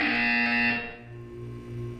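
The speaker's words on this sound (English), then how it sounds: "When you hear the buzzer, look down at the floor." Harsh, distorted electronic buzzer from the video game Portal 2, sounding once loudly for under a second before cutting off into a lower, droning hum.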